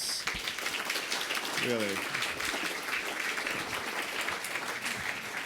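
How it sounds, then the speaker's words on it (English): Audience applause at a startup showcase during a Christmas party, a steady broadband wash of clapping filling the room throughout, with a brief spoken word and some voices mixed in over it. "Let's get a round of applause for all the startups."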